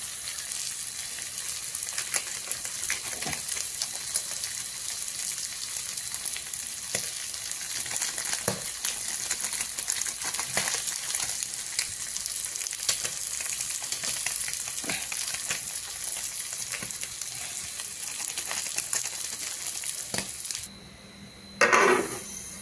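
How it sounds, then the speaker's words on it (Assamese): Boiled pork meat frying in a pan with spices, a loud continuous close sizzle with stirring scrapes throughout, ending in a brief clatter, no talk. "এইটো বইল কৰা মাংস হয় গতিকে বেছি সময় নাভাজিলেও হ'ব আৰু পটাপট মছলাখিনি দি লৈ পেলাই ঢাকি দিওঁ"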